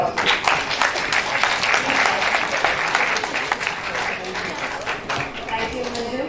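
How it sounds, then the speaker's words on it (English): Audience at an international academic conference giving a loud, sustained round of applause for a speaker, with dense clapping and crowd murmur and some voices underneath. "Please welcome ma'am with a huge round of applause."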